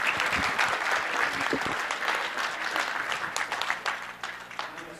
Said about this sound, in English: a nice round of applause for South Point and Mike Monyak